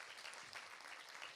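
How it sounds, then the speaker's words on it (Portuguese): An audience at a summit session applauds a speaker, producing steady, dense clapping that stays even throughout, somewhat distant and fairly faint. "Aplausos ao Sr. Dr."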